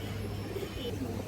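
Pigeons at a breeding farm, soft low cooing under a steady hum, close by, with no one talking.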